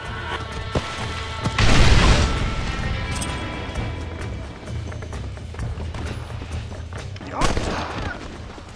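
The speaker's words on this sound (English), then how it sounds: "oh no, there's an explosion" An explosion in the Red Dead Redemption video game booms loudly and then rumbles away into dense game noise of scattered gunfire and commotion, followed later by a second burst.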